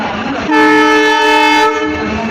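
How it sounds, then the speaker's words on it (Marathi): A train horn sounds loud and sustained for about a second, rising over the rumble of a train arriving at Pandharpur station, then the rail noise continues. "आता ही रेल्वे आली या साईडला"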